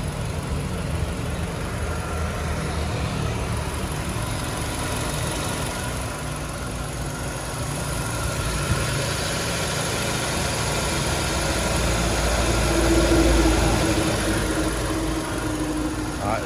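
A 2012 Hyundai Avante with a 1.6-litre DOHC 16-valve engine idles smoothly and steadily, a constant low hum and broadband whir heard close up, swelling slightly toward the end.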